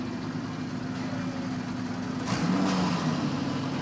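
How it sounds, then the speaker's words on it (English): Eurocup-3 race car engines at Zandvoort circuit drone as a steady low idle heard from a distance, then grow fuller and slightly louder partway through as another engine note joins in. "Firing up the cars, that's what we want to hear. Exhaust notes roaring into life."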